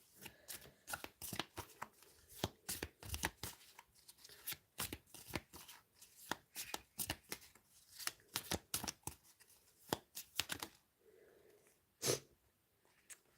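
Tarot cards being shuffled and riffled at close range, a long series of crisp papery bursts in uneven rhythm, with a short pause near the end before a final flick.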